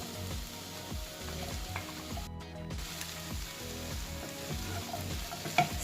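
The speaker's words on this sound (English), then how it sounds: "Stir in the okra so it gets well coated with the onion, tomatoes and the chilies" Chopped okra frying with soft tomatoes, onion and chilies, a steady close sizzle under rhythmic scraping strokes of a spoon stirring the pan, repeating roughly twice a second.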